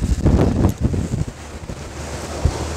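Strong force-5 wind buffets the microphone aboard a 2018 Boston Whaler 230 Outrage boat at sea, loud gusty roaring that surges heavily at first, then settles into a steadier rush with occasional bursts.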